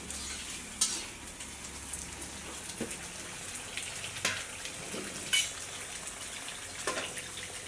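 Pangas fish sizzling in hot frying spice paste, a steady crackling hiss with occasional sharper pops and stirring clinks, fairly quiet and close, with no talk over it.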